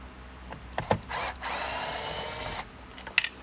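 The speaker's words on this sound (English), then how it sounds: "just take these screws out" Screws being driven out of a Simplicity Riccar vacuum nozzle with a small power screwdriver, heard as a few short whirring bursts followed by a longer steady buzz, close up, with light clicks of handling between them.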